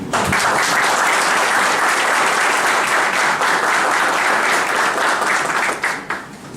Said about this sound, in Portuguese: moção de palmas